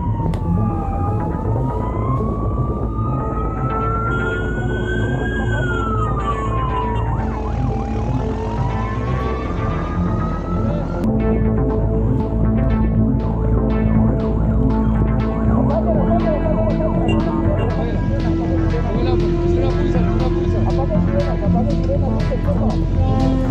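Police emergency siren wailing up and down and then switching to a faster yelp, loud and close with traffic noise, while people talk over it throughout.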